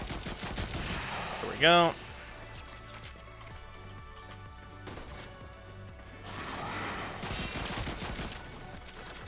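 The Zhuge crossbow in the video game Warframe fires bolts at close range, a rapid run of sharp snapping shots with a brief rising whistle-like tone over game ambience, while someone says a few words.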